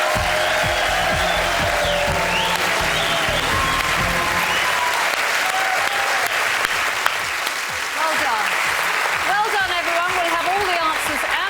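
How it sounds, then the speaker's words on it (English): A TV studio audience at the 2007 Test The Nation IQ test show claps loudly and continuously, with some cheering rising later and a voice faintly heard over the applause. "Please give yourselves a huge round of applause."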